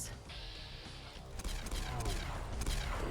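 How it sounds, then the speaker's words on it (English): Plasma gun fire in Fallout 4 from a modded Glock-style Plasma Defender pistol, heard as dense rapid bursts of energy-weapon shots over a loud, busy game soundscape. "Shooting him with a laser."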